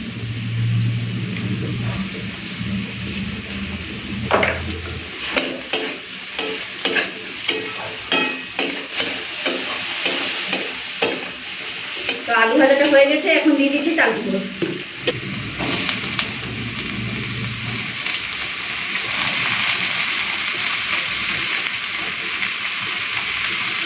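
Potatoes and onion frying in a pan, with a sizzle underneath a run of rhythmic spatula knocks and scrapes, then a steadier hiss toward the end.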